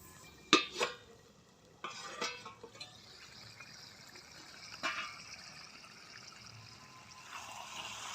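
Metal lid lifted off a pot of simmering katla fish-head muri ghonto, a few sharp clinks and clanks against the rim over a soft bubbling hiss.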